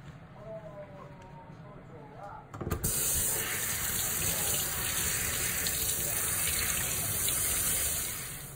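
Running tap water pours over shiso leaves being washed in a kitchen sink, starting abruptly after a few quiet seconds with a soft background and faint voices, then gushing steadily and fairly loud until the end.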